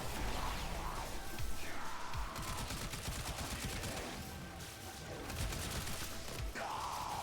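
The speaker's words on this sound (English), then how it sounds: "the Stug is such a bad weapon" The Stug weapon fires continuously in the video game Warframe, giving a steady stream of dense shots and impacts that runs the whole length of the clip at moderate loudness.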